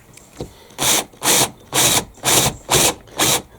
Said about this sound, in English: now I'm going to drill them